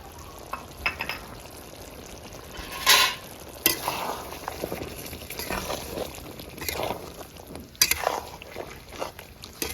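Malai chicken cooking in a handi with milk and cashew paste added, stirred with a spoon in a steady close scraping and sloshing rhythm over a faint sizzle, with a few sharper utensil clinks.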